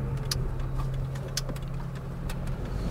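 A truck passes on a road with a steady, low engine rumble, moderately close and fairly constant, with a few sharp clicks and taps over it and no talking.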